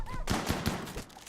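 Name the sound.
gunfire in the video game Rimworld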